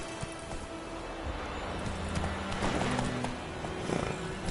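Roach the horse galloping in The Witcher 3, a steady run of soft hoofbeats heard faintly at moderate distance over a hissy outdoor game ambience, with no voices.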